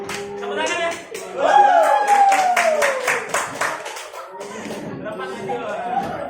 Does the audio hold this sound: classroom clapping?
yes